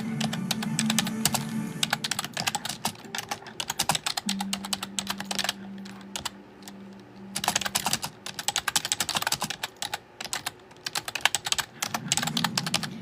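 Rapid, dense clatter of fingers typing on a computer keyboard, likely with long nails, close and steady in bursts with a brief pause near the middle, while a faint low hum runs underneath.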